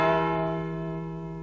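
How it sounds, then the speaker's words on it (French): A large church bell in a bell tower rings a single loud, rich stroke, its deep hum and bright overtones sustaining and slowly fading with no voices present. "Il avait appris à sonner les cloches pour annoncer les messes, les mariages, les baptêmes et les enterrements."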